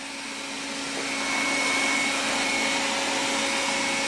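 A Roborock S50 robot vacuum cleaner runs with a steady, moderately loud motor whir and hiss, swelling slightly as it moves closer, with no voices.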